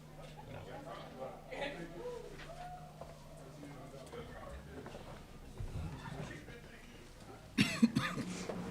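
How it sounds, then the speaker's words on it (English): Sharp dry coughs, one burst loud and close near the end, over murmuring voices and faint room noise at a post-game basketball press conference. "I got this dry cough."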